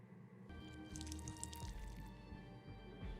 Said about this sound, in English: I'll go and add some water